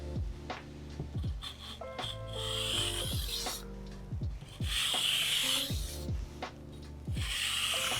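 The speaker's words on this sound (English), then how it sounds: "Just the motion to just deburr, taking the burr off from the other side." A knife is deburred on a whetstone, with light passes on the back side of a 90/10 or 70/30 edge. Quick, repeated scraping strokes come up close and fairly loud, with no talk.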